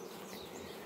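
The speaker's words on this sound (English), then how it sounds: "Just grabbing handfuls and handfuls of bees" Honey bees buzz in a dense, steady drone while being scooped by hand from a hive during a rescue on the Big Island, close and continuous for the whole short moment.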